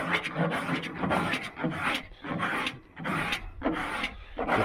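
Coarse cheese grater body file rasping across car body filler on a 1978 V8 Nova, in steady back-and-forth strokes about once a second, close and loud with no talking.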